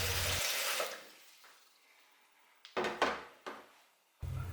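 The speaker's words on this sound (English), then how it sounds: "Next, fill in the jug with tap water about halfway up." Tap water runs into a Brita filter jug for a moment, then stops and fades, followed by a few hard knocks and clatters of plastic and a brief burst of running water at the end.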